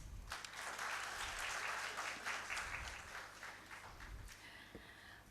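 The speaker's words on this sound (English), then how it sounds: "Once again, a very big applause." Sustained crowd applause fills an inauguration ceremony hall, dense steady clapping from a large audience holding loud for several seconds before tapering slightly at the end.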